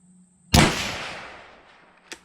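A single sharp, loud rifle shot from a Mossberg Patriot chambered in 350 Legend, with a long decaying echo and a faint click afterward.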